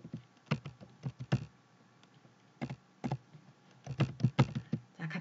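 A computer keyboard clacks as a folder name is typed, then Enter is pressed. Irregular clusters of crisp, close keystrokes are separated by brief gaps, and no one speaks.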